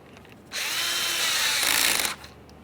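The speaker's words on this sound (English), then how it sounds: "continue on to your T20 torque screw. Start it in, snug it up." A power drill or driver whirs steadily for about a second and a half, driving a T20 Torx screw into a rear camera bracket on a 2013-2020 Ford Fusion, close and loud, with quiet before and after.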